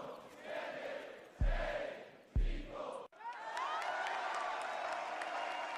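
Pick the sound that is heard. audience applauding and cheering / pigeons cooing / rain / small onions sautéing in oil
audience applauding and cheering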